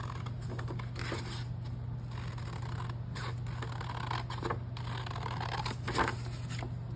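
Scissors snipping through card stock while making an autumn folio pocket greeting card kit, a steady run of small close cuts over a constant low electrical hum, no talking.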